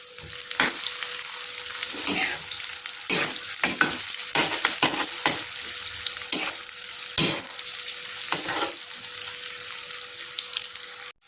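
Tempeh frying in hot oil in a pan, a steady close sizzle with repeated clinks and scrapes of a utensil stirring the pieces.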